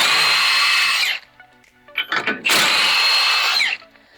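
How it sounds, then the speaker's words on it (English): An impact wrench on wheel lug nuts fires in two loud, close bursts about a second long each, separated by a short pause with faint rattling. "But this big impact, especially on wheel lug nuts"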